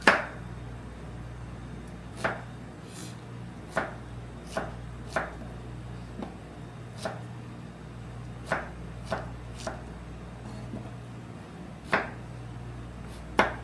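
A knife chops zucchini into small cubes on a cutting board in a home kitchen, sharp distinct thuds spaced irregularly about a second apart, close and clear over a steady low hum.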